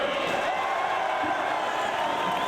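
A large wrestling crowd at a Ring of Honor event fills the space with a steady, dense roar of cheering and chatter, continuous and loud throughout with no single voice standing out.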